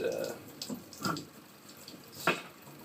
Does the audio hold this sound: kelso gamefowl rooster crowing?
no